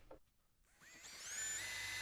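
An electric drill bores through a splitter bracket on a 2022–2024 VW MK8 GTI, spinning up from a soft start into a steady, close, high-pitched whine that rises and holds.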